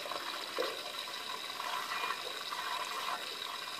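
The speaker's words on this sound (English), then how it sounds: "That's still pumping water in, albeit very slowly" Water runs steadily into a bowl through a leaky float valve, a continuous soft trickling hiss with no break.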